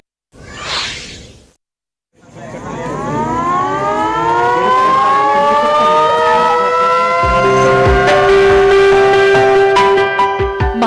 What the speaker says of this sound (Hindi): हर शाम एक स्थानीय मंदिर से सायरन बजाकर मोबाइल फोन और अन्य गैजेट्स बंद करने